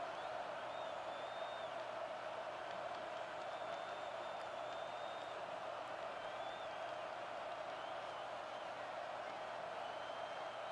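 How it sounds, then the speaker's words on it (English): Stadium crowd in EA College Football 25 roaring steadily throughout a huge fourth-down play, a dense continuous wash of cheering with scattered whistles, holding at an even level from start to finish. "This crowd bringing serious noise on this"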